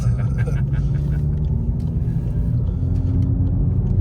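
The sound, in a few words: VW Golf TCR stage 2 with Armytrix exhaust rumbling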